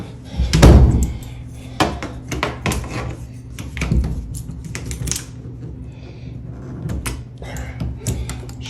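A basement door is shut and locked with a series of sharp clicks, knocks and metallic rattles, irregular and close, spread across several seconds with brief quiet gaps.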